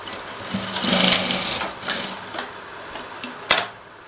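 A sewing machine stitches a cross cut blouse, running in short bursts that slow and pause at a turn, with a few sharp mechanical clicks near the end; no one speaks.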